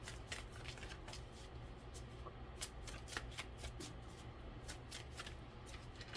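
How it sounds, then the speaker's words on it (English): Tarot cards being shuffled by hand, a quiet, steady run of rapid papery riffles and soft slaps with a few sharper snaps, close and alone. "Let's do one more shuffle."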